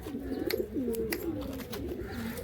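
Pigeons in a loft cage coo in soft, repeated, rolling calls close by, with a few sharp clicks and taps mixed in and no voices.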